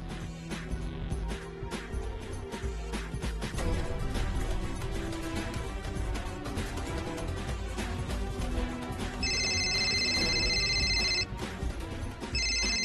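A telephone rings in a household drama scene with a call from the mother, the electronic ringtone sounding in repeated bursts over background music and room noise.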